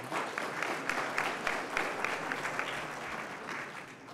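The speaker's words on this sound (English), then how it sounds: "Let's give him a round of applause." A crowd claps steadily in sustained applause at a town hall meeting, heard from some distance at moderate volume.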